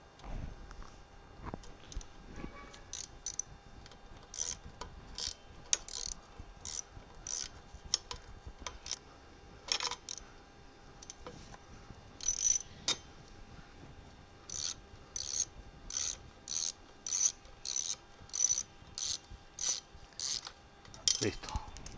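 A ratchet wrench loosens the bolts holding the catalytic converter on a Benelli TNT 899 motorcycle, giving bursts of sharp, rapid metallic clicks that come quicker and louder toward the end, with no speech.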